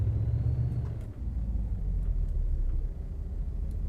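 A MAN TGX truck engine in American Truck Simulator drones with a deep, loud rumble that rises as it over-revs, then settles into a steady low growl, close and continuous with no talk.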